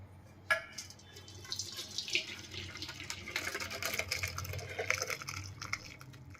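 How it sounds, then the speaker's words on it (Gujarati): Cold water poured over freshly boiled pasta in a colander, a steady running splash from a tap that rises and stays fairly constant for several seconds, with no talking. "આપણે થોડું ઉપરથી ઠંડુ પાણી નાખશું"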